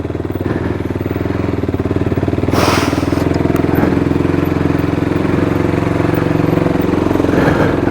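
A KTM 390 Duke motorcycle engine idles up close after throttle body work, a loud steady single-cylinder thrum with a slight rise partway through, alone without talk.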